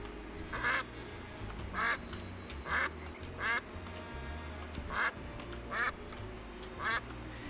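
A cartoonish duck quacks from the video game Duck Detective, giving seven evenly spaced loud quacks over a quiet game background.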